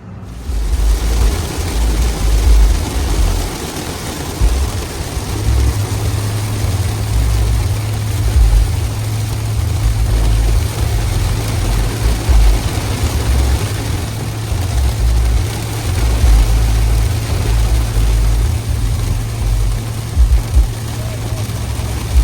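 A new Yamaha WaveRunner personal watercraft idles at Lake Havasu with a steady, loud low rumble that runs throughout, with no gaps.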